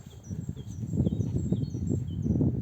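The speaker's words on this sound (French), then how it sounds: "Ah là, les oiseaux, écoutez ça" Small birds chirp and tweet in short high calls, scattered throughout over a steady rustling, murmuring background.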